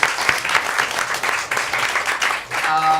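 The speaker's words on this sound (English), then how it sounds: "can we get a round of applause for the panelists as well?" A conference audience applauds steadily throughout for a panel, a dense wash of clapping, with a brief tone sounding near the end.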